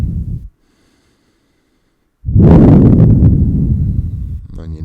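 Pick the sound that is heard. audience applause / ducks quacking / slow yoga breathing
slow yoga breathing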